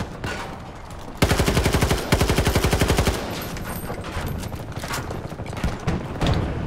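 Factory GEW rifle firing in Battlefield 2042: a loud, rapid automatic burst of evenly spaced shots for about two seconds, followed by scattered game noise and impacts.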